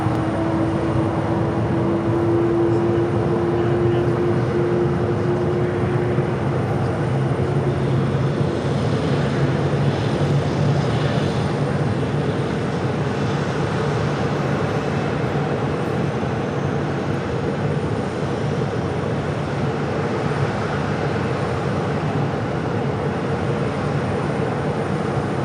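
An American Airlines jet on its takeoff roll at Phoenix Sky Harbor, a steady, broad engine roar that stays loud and unbroken throughout, with a faint whine fading early on and no voices.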